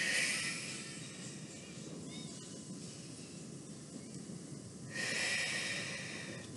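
Slow, deep breaths during a gentle seated neck warm-up: a long audible inhale, then a quieter stretch, then another breath swelling near the end.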